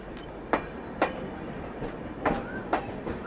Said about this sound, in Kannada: ನೀನು ನಮ್ಮನ್ನು ಓವರ್ಟೇಕ್ ಮಾಡ್ಕೊಂಡು ಮುಂದೆ ಬಂದೈತೆ ನೋಡ್ರಿ ಇಲ್ಲಿ